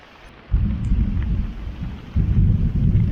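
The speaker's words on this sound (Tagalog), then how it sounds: "inabot na ng ulan" A sudden rain shower with thunder on a road in San Pablo City, Laguna, a dense roar that swells in abruptly and surges again midway, close and loud, with no talking.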